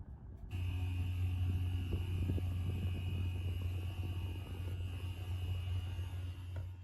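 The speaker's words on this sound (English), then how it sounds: "resembling a very loud fan." A steady, loud droning broadcast noise with a constant low tone and faint high whine, unchanging throughout like a powerful fan running nonstop.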